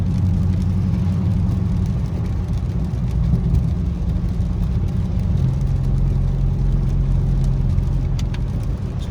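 A 2020 Dodge Charger Scat Pack widebody drives in the rain with traction control off, its engine a steady low rumble with road and tire noise, heard from inside the car.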